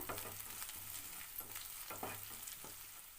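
Chopped onions, ginger and green chilli sauté in a pan for masala Maggi, giving a soft continuous sizzle with occasional stirring scrapes, fairly quiet and with no voices.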